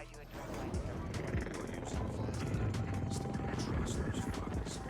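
Chopper Gunner helicopter killstreak in a Modern Warfare video game, a steady rotor drone with gunfire crackle and battle noise, while a voice talks over it.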